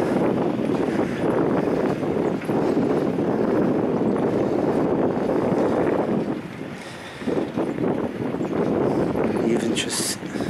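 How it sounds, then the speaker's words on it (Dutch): Boats passing on the Westerschelde near Walsoorden in Zeeland, heard as a steady broad rumble and wash buried under strong wind buffeting on the microphone, easing briefly midway before returning. "De boten die hier passeren."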